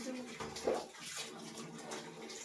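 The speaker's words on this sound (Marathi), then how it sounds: "गरम पाणी येते." Hot water pours steadily into a tub for a Labrador puppy's bath, a continuous gushing wash with faint voices in the background.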